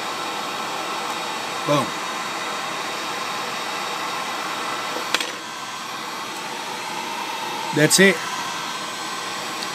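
A hot air blower heats solder on a USB charging port, giving a steady close whooshing hiss throughout while a voice speaks briefly and a few clicks sound.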